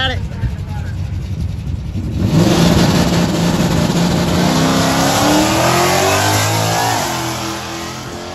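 A drag race car launches down the track, going from quieter crowd and ambient noise into a loud, sustained roaring acceleration whose pitch climbs as the car pulls away, with a commentator's voice faintly underneath.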